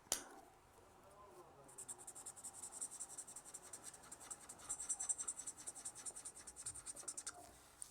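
A pen coloring in a cute cartoon drawing of Cinnamoroll and Pompom, a steady faint scratchy rubbing of tip on paper in quick repeated strokes, close and quiet with no talking.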